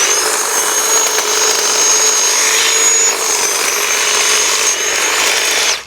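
A solid, heavy-duty battery-powered electric hedge trimmer cuts into an overgrown box shrub being shaped into rough topiary, its steady high buzzing whine running loud and continuous without a break.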